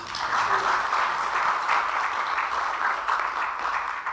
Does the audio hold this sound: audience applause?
yes